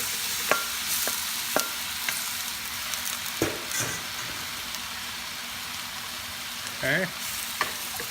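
Squid stir-fries with tofu in a pan, with a quiet, constant sizzle broken by sharp scraping clicks from stirring and a brief burst near the end. Someone says a single word.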